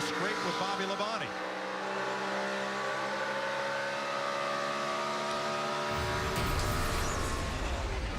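NASCAR stock cars racing at the 2012 Coca-Cola 600 make a steady, loud engine roar, with one car's engine note swelling near the end as it closes in and overtakes, under race commentary.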